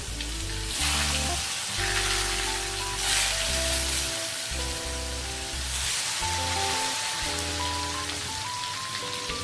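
Stuffed ridge gourds drop into hot oil seasoned with asafoetida and fry with a steady, dense sizzle that runs the whole stretch, while a sustained melodic music bed plays loudly underneath.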